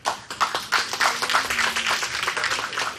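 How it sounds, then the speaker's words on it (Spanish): An audience at an international seminar on academic and specialized libraries applauds a speaker, a short burst of moderately close, uneven clapping from a modest crowd. "Un aplauso para Livio Guaroto."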